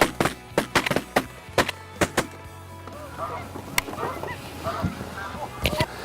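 Geese on a foggy morning hunt honk from overhead while circling the hunters, mixed with several sharp, close knocks early on and a scattered chorus of nearer and farther calls.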